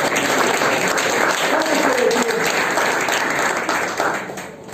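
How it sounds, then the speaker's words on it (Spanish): A church congregation applauds loudly and continuously, a thick wash of clapping with voices mixed in, tapering slightly at the end. "Dale un aplauso al Señor"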